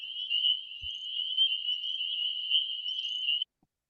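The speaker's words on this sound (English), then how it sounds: "It's sort of a peeping sound. You might have heard these in the wintertime, despite that they're called spring peepers." Spring peeper tree frogs from North Carolina: a continuous high, shrill peeping chorus that holds steady and fairly loud for several seconds, then cuts off abruptly into silence, with no voices.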